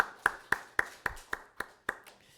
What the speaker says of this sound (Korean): 우리 박수로 위로하도록 하겠습니다.